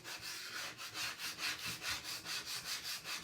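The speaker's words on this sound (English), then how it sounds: "This scraper makes it so much easier to clean your boards." A scraper drags across a chalk board to clean it. It makes a soft, rhythmic rasping rub in about a dozen even back-and-forth strokes, faint and close with no talking.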